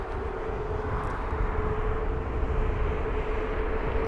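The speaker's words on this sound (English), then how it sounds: "Yeah, the engines are still running." An Emirates A380 airliner at Heathrow Airport runs its engines in a steady, distant roar with a faint sustained whine, unbroken and with no voices.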